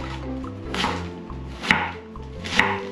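A knife chops through a head of white cabbage on a board, giving a couple of crisp, close thuds over a steady musical background.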